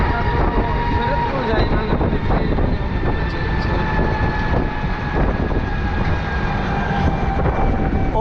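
A train runs along a railway line beside a bridge and highway near Dhaka, its continuous rumble and rolling clatter steady and fairly loud throughout, with faint tonal squeals riding over the noise.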